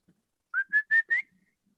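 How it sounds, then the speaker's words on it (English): A person whistles to call a dog: four short, clear, bright notes in quick even succession, slightly rising at the end, close and alone in a quiet room. "I'm going to whistle, and we'll see if she comes."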